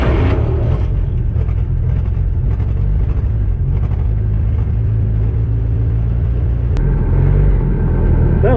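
A Willys Flatfender Jeep engine idles steadily after the ignition is switched on, a loud, constant low rumble that goes on throughout, with a brief click near the end.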